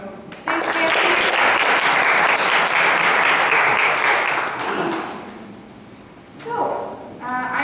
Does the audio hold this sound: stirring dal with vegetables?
no